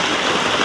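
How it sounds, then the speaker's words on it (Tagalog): Heavy rain pours down in a dense, steady roar of falling water, close and loud throughout the brief moment, with no voices over it. "Lumakas na naman ang ulan"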